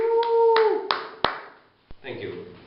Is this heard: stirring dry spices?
no